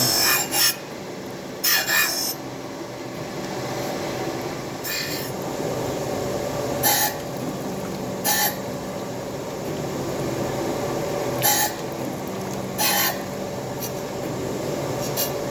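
An exhaust manifold is ground smooth with a steady abrasive rasping that runs continuously, broken by repeated short bright scraping bursts at irregular intervals.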